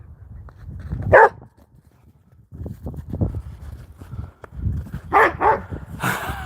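A dog barks in sharp bursts, once early and again near the end, with quieter shuffling and low rumbling noise between them.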